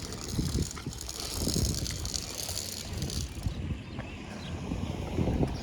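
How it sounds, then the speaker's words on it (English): Wind gusts buffet a phone microphone on an outdoor walk through Levittown, Long Island, as a loud low rumbling roar that swells and fades in waves, with faint background clatter and no speech. "I'm gonna let this wind go by"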